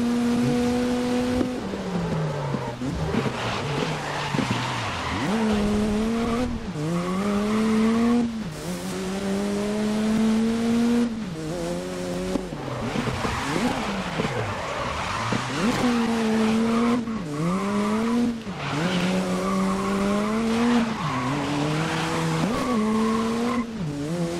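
Race cars lap a circuit in GRID during a Group A Super Cup race: engines rev up and down continuously, shifting gears through corners, with tire squeal, loud and sustained throughout.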